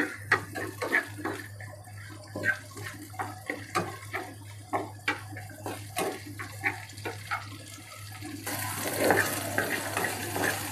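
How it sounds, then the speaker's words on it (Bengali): Dried loitta fish frying in oil in a pan with spices, with a steady low sizzle under repeated scraping stirs and clinks of a utensil, growing louder toward the end. "আপনারা দেখতে পাচ্ছেন আমাদের শুটকিটা ভাজা হয়ে গেছে"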